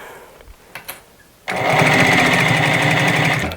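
Sewing machine stitching a sherpa lining into a knitted hood, starting after a few faint handling taps and then running steadily and loudly at close range with a fast, even mechanical whir.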